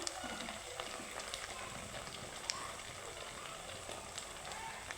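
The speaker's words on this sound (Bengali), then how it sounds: "মিষ্টিগুলো কিন্তু একদম লোটু মিডিয়াম করে ভাজতে হবে" Sweets made from flattened rice (chira) frying in oil on low-to-medium heat, giving a faint, steady, fine crackle and sizzle throughout.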